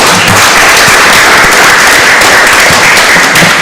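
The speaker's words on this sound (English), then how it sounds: "Give her a clap on the way up." Council meeting audience clapping for a junior councillor, loud dense applause filling the short stretch evenly from start to finish with no talk.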